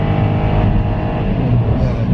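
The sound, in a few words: Kia Morning car engine revving up to 6,200 RPM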